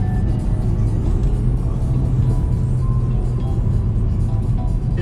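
A BMW 320d diesel pulls away from a standstill in standard drive, a steady muffled engine drone and road rumble heard from inside the cabin.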